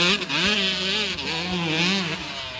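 Husqvarna CR150 two-stroke motorcycle engine revving up and down in short bursts, loud and close, with a raspy buzzing tone.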